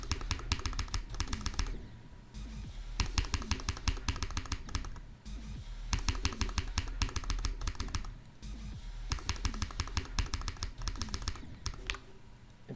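Rapid, continuous typing on a Wooting computer keyboard, bursts of crisp close key clicks separated by short pauses, with no voice.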